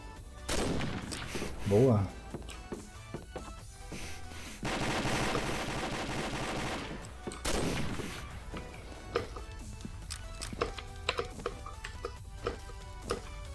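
Gunfire in the online shooter Combat Arms, with bursts of shots and sustained automatic fire in a couple of stretches, while players talk excitedly over it.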